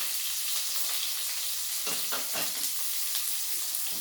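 Crushed garlic hits a hot pan and sizzles, a steady bright hiss with a few crackling pops and stirring scrapes in the middle.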